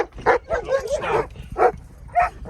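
A small dog on an overlanding camping trip barks in several short, sharp bursts with whiny, whimpering yelps between them, close and fairly loud with no other sounds around it.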